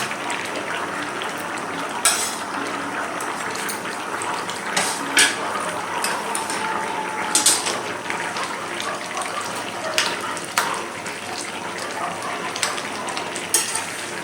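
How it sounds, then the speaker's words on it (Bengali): Fried fish heads slide into a pan of simmering Bengali pui saag (Malabar spinach) with added water, giving a steady bubbling sizzle broken by a few soft clinks of a utensil against the pan. "এবার আমি ভেজে রাখা মাথাগুলো দিয়ে দেবো।"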